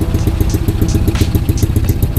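A 125cc automatic ATV engine runs close by with a rapid, even, throbbing putter. Its loud pulses are evenly spaced and keep the same rhythm throughout, with no talk over it.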